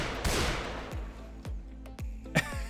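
Gunfire in Garry's Mod: one sharp, loud shot opens the clip, followed by a few lighter, evenly spaced thuds and a brief crack near the end, with no talk.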